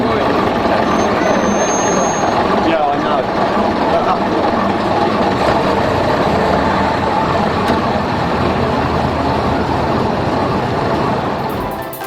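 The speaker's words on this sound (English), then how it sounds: "The 1959 Leyland powered Routemaster prototype, RML3, with its original front end restored, takes a short spin at Brooklands" A 1959 Leyland-powered Routemaster prototype bus, RML3, with its original front end restored, driving at Brooklands, a steady loud diesel engine rumble close by throughout with a possible voice mixed in, easing slightly at the end.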